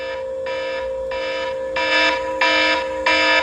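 Wasserstein smart home security alarm sounding indoors, a loud shrill electronic tone pulsing in evenly spaced bursts that grow louder after the first few, close and alone with no talk.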